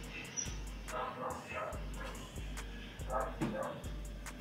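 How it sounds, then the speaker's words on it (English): A dog barks in short repeated yips and woofs outdoors near a home, faint and somewhat distant, with background hiss and no clear talk. "Fucking dog."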